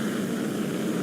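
An airplane engine roars in a flight video game during a landing, a brief, steady, loud broadband drone with no talk.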